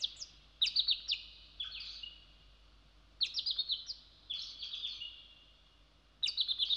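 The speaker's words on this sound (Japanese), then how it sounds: "聞いたことのない鳥の鳴き声が聞こえる。" Unfamiliar bird calls ring out in a mountain setting within a Japanese adventure video game: bright, high chirping trills come in three separate bursts with short pauses between, clear and fairly close over a quiet background.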